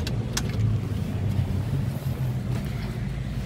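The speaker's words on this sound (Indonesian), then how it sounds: "Kita sekalian nyalain mesinnya." A 2002 Toyota Kijang LSX diesel runs with a deep, steady, close rumble. There is no clear starting crank, just an even throbbing idle throughout.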